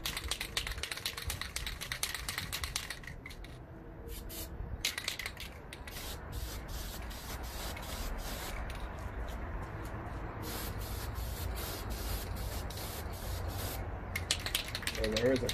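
Spray gun painting new mirrors for a coupe in repeated passes, short hissing bursts starting and stopping, moderately close with steady background noise.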